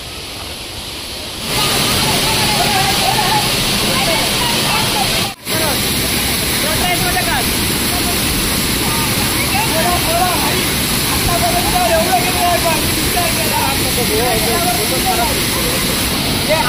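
A waterfall in Aakeri, Sawantwadi, roars steadily nearby, a loud dense rush of water that fills the scene after a short quieter start, with a voice faintly underneath.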